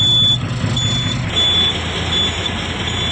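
A vehicle engine hums low and steady, close by, while a high electronic beep repeats at regular intervals over the running motor.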